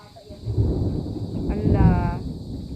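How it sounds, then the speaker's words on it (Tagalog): A low, rolling rumble of thunder swells and fades around a rainy-season home, with a voice briefly speaking over the middle of the rumble. "lakas ng kulog guys mukhang uulan na naman"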